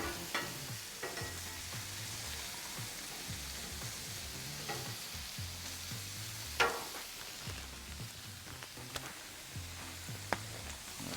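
Cheesesteak ingredients sizzle on a Blackstone griddle in a low, steady fry, broken by spatula scrapes and a few sharp metallic taps as they are spread across the hot surface.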